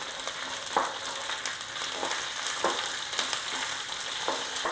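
Onions frying in a pan for Kerala theeyal, a constant close sizzle with occasional soft stirring scrapes at a steady pace.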